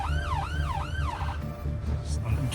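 An ambulance siren wails in a rising and falling sweep for about a second, then cuts off, leaving engine rumble and road noise.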